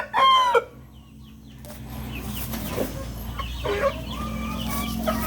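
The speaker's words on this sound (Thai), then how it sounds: "อันนี้ไก่หนุ่มนะครับ" A young Burmese gamecock gives a short, strained crow, followed by scattered clucks from chickens nearby against a low background hum.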